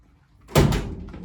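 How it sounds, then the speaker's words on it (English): A vehicle door shutting against new rubber seals, a single firm thud with a short muffled rattle after it, close and fairly loud after a moment of near silence. "Doors close and they seal."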